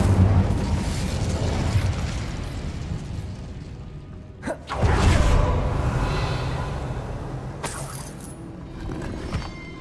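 A fire spell cast in Hogwarts Legacy gives a sharp burst with a whooshing flare partway through, set against a continuous bed of game ambience and effects, with another bright burst near the end.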